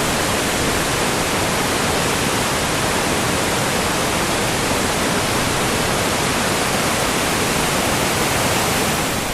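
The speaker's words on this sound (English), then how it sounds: "I'm going to stop talking and let this waterfall speak for itself." A rain-swollen waterfall surges over a dam in Gorge Metro Park at Cuyahoga Falls, a loud, dense, unbroken roar of crashing water heard close up with no voices.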